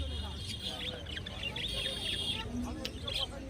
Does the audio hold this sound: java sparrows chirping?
yes